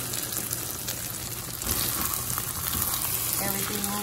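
Beaten eggs, about three, frying and being stirred into a pot with crumbled ingredients and onion, giving a steady close sizzle with occasional scraping stir sounds.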